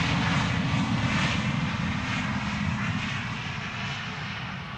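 Embraer E2 jet airliner at Schiphol Airport, its engine roar loud and steady as it passes close by, slowly fading toward the end with no talk.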